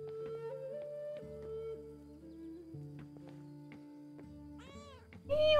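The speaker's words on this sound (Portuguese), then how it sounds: "Será que sempre teve tantos gatos na abadia?" Cats meowing in the video game Pentiment, set in an abbey, with a few soft mews over gentle background music and a louder, nearer meow at the end.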